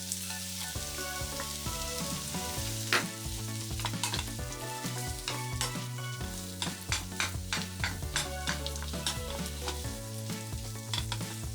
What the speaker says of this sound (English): Now add the potatoes and peas and mix well